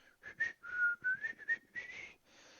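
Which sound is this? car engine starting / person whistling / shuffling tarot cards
person whistling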